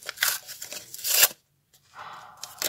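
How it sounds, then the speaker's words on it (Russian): A small packet torn open by hand in two bursts of sharp tearing and crinkling, close and alone, with a short pause between. "Открываем наш пакетик."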